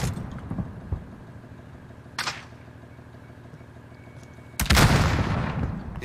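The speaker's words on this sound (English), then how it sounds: "He's shooting out from like the tree." Gunfire in the Warzone video game, two sharp loud bursts, a short crack followed later by a longer blast, over quiet outdoor ambience with no talking.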